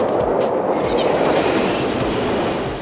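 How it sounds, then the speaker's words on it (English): Chicago L elevated train riding high above the street, its wheels rumbling steadily over the rails with clickety-clack beats, loud and continuous before easing slightly at the end. "Why do we love the train?"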